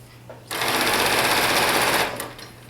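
A sewing machine stitches a tee shirt in one fast, loud, continuous run of about one and a half seconds, then stops, with faint clicks before and after.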